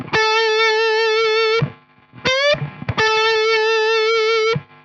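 Distorted electric guitar plays a stoner rock lick: a long sustained note, a short rising string bend, then another long held note, each cut by a brief gap, loud and alone with no voice.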